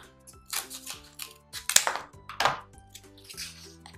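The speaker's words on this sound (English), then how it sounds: "I'm gonna cut it away." Scissors snip away excess paper from a homemade crown-style mask, a run of short, close cutting strokes and rustling paper, with no talking.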